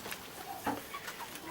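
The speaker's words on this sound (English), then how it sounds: "So here are the chickens which were hatched in January and February." Young chickens hatched in January and February cluck quietly outdoors, a few faint, scattered clucks over a low background.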